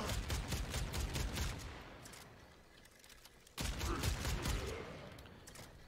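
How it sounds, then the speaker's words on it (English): Boar Prime automatic shotgun firing in Warframe, heard as rapid, dense bursts of close, loud blasts. The firing stops for about a second and a half, then resumes just as heavily. "very powerful shotgun"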